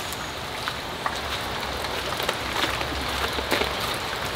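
Steady rain falls on outdoor surfaces at a countryside spot, a dense continuous patter with scattered louder drops, no talking.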